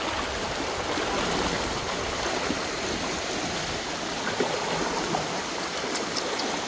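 Floodwater in Salavan rushes and churns steadily, a continuous broadband wash like a fast stream, with no voices over it.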